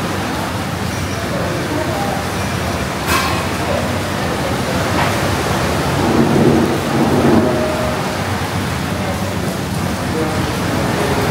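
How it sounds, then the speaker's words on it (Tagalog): Thunder rumbles through steady heavy rain at a seaside resort in Subic, with a sharp crack near the start and swelling low rumbles midway, all under a constant dense patter of rain. "Ulan. Bastang ulan."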